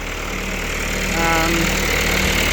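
A tractor engine idles loudly and steadily with a low, chugging rumble and no talking.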